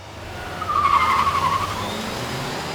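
A Toyota Camry Hybrid, Ford Mondeo and Peugeot 508 GT launch in a drag race, with a loud tyre squeal rising over the engine noise in mid-clip, then fading back into a steady road rumble.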